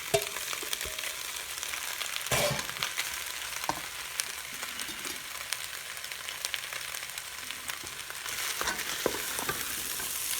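Vegetables for hobo stew cooking in a rice cooker, a soft steady sizzle with occasional knocks and scrapes of stirring, fairly quiet and with no voices.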